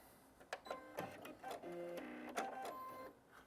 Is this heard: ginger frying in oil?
no